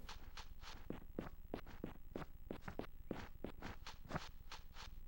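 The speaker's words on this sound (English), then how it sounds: "Yeah, I hear footsteps right there." Footsteps in the N64 game Aidyn Chronicles: The First Mage tap in a steady walking rhythm, evenly spaced and fairly quiet, continuing throughout.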